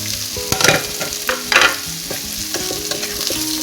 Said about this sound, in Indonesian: Sekarang kita tinggal masukkan si jagung mudanya.